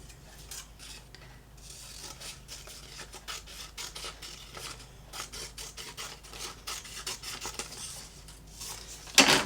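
Paper page border being trimmed for a junk journal, with soft, irregular scraping and snipping close by, quiet throughout and ending in a brief sharper rustle.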